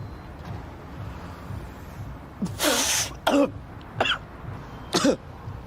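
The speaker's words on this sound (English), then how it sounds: "Cough, cough, cough." A harsh fit of coughing up close: one long hacking burst followed by three shorter sharp coughs, over faint wind noise.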